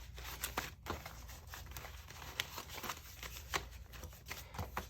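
Stuffed cash banknotes being counted by hand, a quiet run of crisp paper flicks and rustles in quick irregular succession, close up with no speech.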